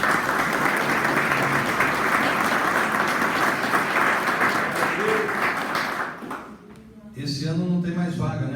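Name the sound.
applause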